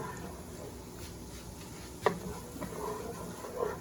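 Garlic stirred into a crab claw and colossal shrimp saffron scampi in a pan, a quiet sizzle with soft stirring scrapes and one sharper clink of utensil on pan, close.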